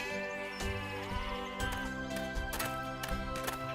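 Goats in a high mountain pasture bleating repeatedly, the wavering cries overlapping over a continuous bed of soft music.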